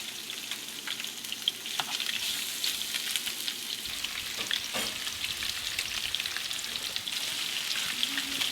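A sheepshead fish fillet sears in a hot pan, a steady close, crackling sizzle with small pops running throughout without any voices.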